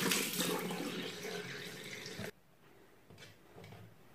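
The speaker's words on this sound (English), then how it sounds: "Rinse under cold water again until clean." Cold tap water runs steadily into a sink while a makeup sponge is rinsed, a close, full splashing rush that cuts off abruptly, leaving faint drips and handling sounds.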